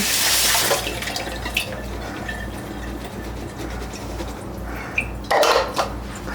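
Dishes washed in a kitchen sink under running tap water: a steady hiss of flowing water with clinks of plates and cutlery and short louder splashes near the start and again around five seconds, close and without talk.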